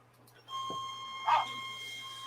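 A steady electronic whine with a couple of short, rough bark-like bursts, resembling a dog barking, from a noisy fan; no voices.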